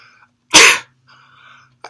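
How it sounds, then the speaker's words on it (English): A single loud, close sneeze bursts out alone in a quiet room, with a faint soft sound trailing after it. "I sneeze in every video"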